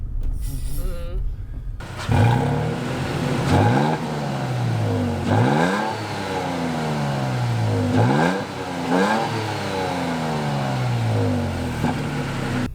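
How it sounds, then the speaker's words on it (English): A 2018 Toyota Tacoma TRD Off-Road pickup truck engine revs repeatedly outdoors, climbing and dropping several times in rough bursts after a brief noisy start. "let's hear what it sounds like revving from the outside."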